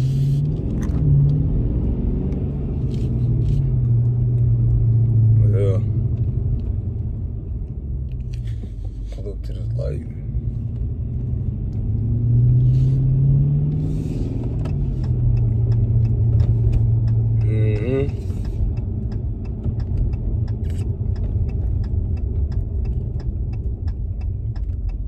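A Dodge Challenger R/T rumbles steadily while being driven, a loud low engine drone swelling and easing with throttle throughout, with a few faint clicks over the top.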